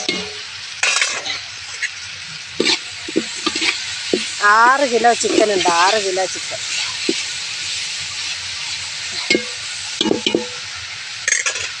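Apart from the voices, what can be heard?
sautéing tomatoes, curry leaves, garlic and ginger in a pan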